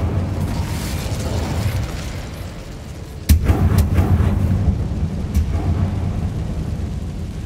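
A fire spell blasts with a sudden loud boom partway through a Hogwarts Legacy catacombs scene, cutting into a steady low ambient rumble that continues under the echoing aftermath.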